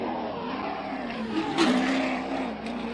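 A race car in a Spec-D Pro Series drifting practice at Agassiz Speedway roars with a steady, loud engine drone, rising slightly in pitch as it pushes through a corner with faint tire noise.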